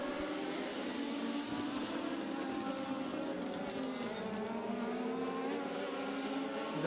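A stock car, the number 47 bar car, races around an oval track in a heat event, its engine a droning roar that shifts in pitch as it passes, heard at a distance under steady crowd-free ambience.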